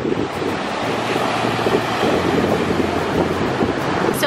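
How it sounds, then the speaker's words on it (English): Steady surf washes onto a private beach on Kauai, Hawaii, a continuous broadband roar with wind buffeting the microphone and no voices. "Our own private beach."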